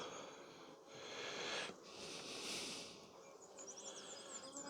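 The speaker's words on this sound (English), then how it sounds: "Look at the bees on top." Honey bees buzz on top of an open hive, a continuous close, droning hum that swells and fades slightly, with no voices.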